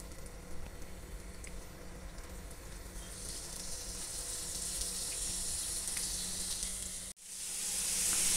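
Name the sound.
fish shallow frying in pan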